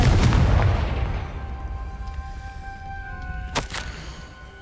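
A Confringo fire spell bursts in Hogwarts Legacy, a loud booming blast that decays over about a second, followed by quieter game ambience, a sustained tone and a sharp crack near the end.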